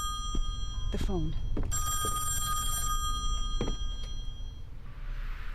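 A telephone rings in the horror video game Song of Horror, its bell sounding in repeated bursts over a steady low game ambience.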